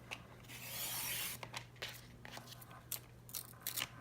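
Scissors cutting around the top of a paper dashboard divider, quiet rasping and snipping close by, with a longer rub near the start and then short crisp cuts, no talk.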